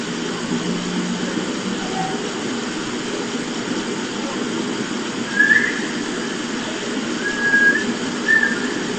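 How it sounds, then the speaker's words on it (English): A short whistle rises out of faint, steady background hiss and rumble. It is brief and fairly distant, with a couple more thin whistle tones following a few seconds later. "So coming up at 4106, you're going to hear a whistle."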